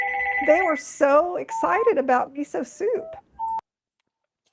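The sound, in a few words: mobile phone ringing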